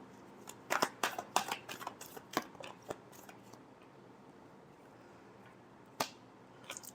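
A tarot deck is shuffled by hand: a quick run of crisp papery slaps and flicks close by, a few seconds of quiet, then one more snap of cards.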